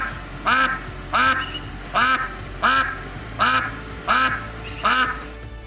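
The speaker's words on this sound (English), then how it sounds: "And this duck would not shut up." A duck quacks outdoors on a partly cloudy day, seven loud, evenly spaced nasal quacks close by over a faint ambient background.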